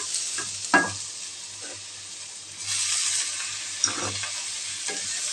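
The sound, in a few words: ginger garlic paste being stirred and fried in pan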